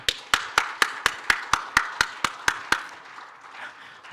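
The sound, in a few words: church congregation clapping in welcome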